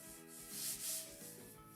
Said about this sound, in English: these are the sanding blocks